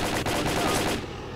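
Rapid bursts of gunfire in Stalker Call of Pripyat, a quick string of close, loud shots cracking in succession before cutting off into a brief tail.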